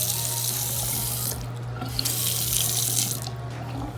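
Water runs steadily from a newly installed sink faucet, a close, continuous hiss and splash that holds evenly throughout with no talking.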